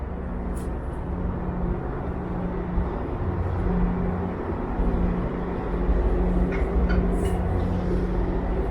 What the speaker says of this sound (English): And there's a GO train.